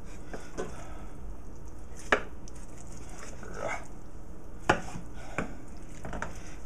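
A knife cutting turkey breast off the carcass, a few separate sharp slicing and scraping strokes spaced out over quiet kitchen background, close and crisp.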